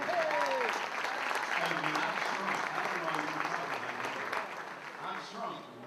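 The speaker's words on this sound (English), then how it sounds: "Butch Hobson, Pete D'Amelia, and of course the biggest round of applause for the biggest man, Cecil Field." Banquet audience applause at a Brockton Rox hot stove event, a broad steady wash of clapping with cheering voices mixed in, easing slightly toward the end.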